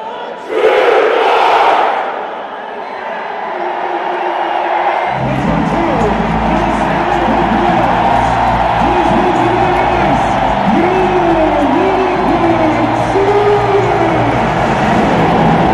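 Jets fans packing the MTS Centre hockey arena for a first playoff game let out a deafening roar that swells sharply, then holds as a sustained wall of crowd noise with rising and falling cheers and chant-like shouts throughout.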